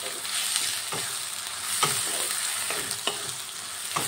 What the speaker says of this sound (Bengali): মাছের তেল দিয়ে আবারও ভালো করে ভেজে নেব।